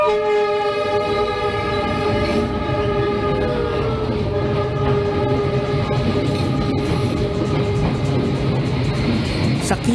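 A train rolls through Hanoi's narrow Train Street, lined closely with houses, with a steady loud rumble of wheels and wagons and a long sustained horn sounding throughout.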